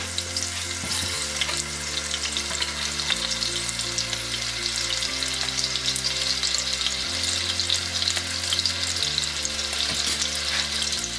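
Garlic sizzling in hot oil in a pan for street-style Indian chow mein, a steady close frying crackle with occasional stirring scrapes throughout, no talking.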